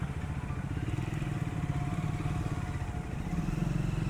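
Triumph 400 motorcycle engine running in a steady, rapid, throbbing idle, loud and close, with a constant mechanical clatter and no talk.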